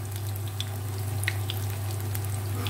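Chana and masoor dal pakoras half-cooking in hot oil, giving a steady close sizzle and faint crackle throughout with a low constant hum underneath and no talking.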